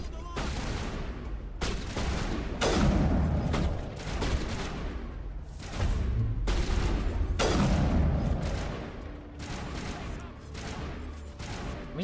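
Video game gunfire in heavy bursts, loud sustained volleys broken by short pauses, close and dense, with a voice speaking faintly beneath it at times.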